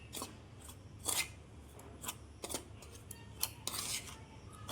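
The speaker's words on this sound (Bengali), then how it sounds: "ও এইটা এখন আমি এটার সঙ্গে মিক্স করে দিব।" Chhena, milk powder and sugar get mixed by hand in a bowl, giving bursts of scraping and clinking at irregular intervals over a soft steady background hiss.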